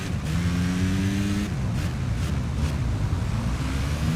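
Racing motorcycle engine in a MotoGP game, a steady loud drone whose pitch climbs as the throttle opens, then dips and swells unevenly as the throttle is feathered.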